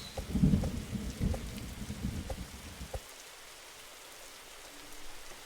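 Rain patters heavily on a surface while low thunder rumbles for about three seconds, then the storm noise drops to a quieter steady hiss of rain.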